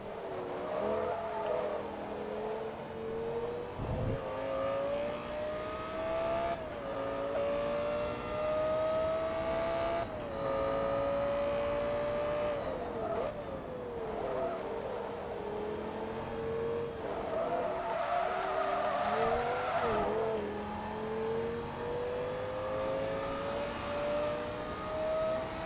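A race car in Forza Motorsport 2 during an Italian Masters Championship race, its engine climbing and dropping through gear changes with steady tyre noise, loud and continuous throughout with no talking.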